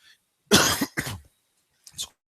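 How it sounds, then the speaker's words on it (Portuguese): Two sharp, close coughs in quick succession, followed after a short pause by a smaller third cough. "Desculpem a tosse, estou com uma gripe terrível esses dias."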